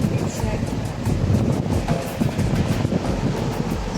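Strong typhoon waves and gusting wind batter the beach at Punta Fuego during Typhoon Crising, a steady, loud, rumbling roar with wind buffeting the microphone throughout.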